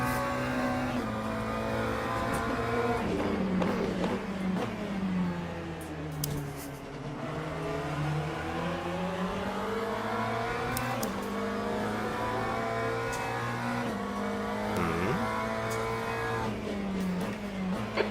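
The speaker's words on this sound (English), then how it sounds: "Got this LMP car coming up." An LMP prototype race car in the sim racing game Le Mans Ultimate drones loudly and steadily, its engine pitch sweeping down and back up as it closes in, with a few sharper spikes along the way and no talking.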